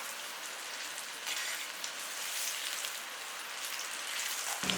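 Chickpea masala mixture deep frying in hot oil gives a steady, crackling sizzle throughout, hissy and bright like light rain, with no talk over it.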